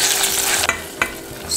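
Tomato paste sizzles in a generous amount of melted butter in a pan, a close, steady frying hiss interrupted by two sharp stirring scrapes.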